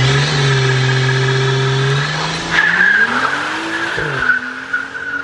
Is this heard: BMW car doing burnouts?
yes